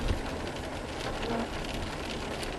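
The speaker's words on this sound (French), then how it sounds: "Et il pleut comme pas possible." Heavy rain pours steadily and loudly outdoors after a cross-country run, a dense continuous hiss of drops on surfaces with no talk.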